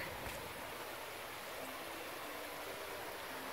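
Water flows through a limestone creek, a steady, even rushing wash that holds constant throughout at moderate distance, with no voices.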